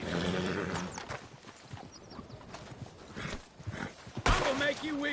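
A horse whinnies and its hooves clip-clop in a tense Red Dead Redemption 2 scene, with shouting voices over the animal sounds and a sharp loud burst near the end.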